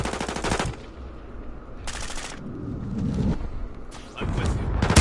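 Shotgun and automatic gunfire in the Modern Warfare 2 beta, loud repeated blasts in bursts near the start, middle and end, with a quieter stretch of game noise between.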